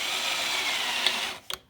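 A hand drill bit turns against a marked point to start a hole, giving a steady close grinding whir that stops near the end, followed by a couple of brief clicks.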